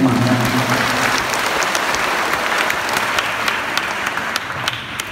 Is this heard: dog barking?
no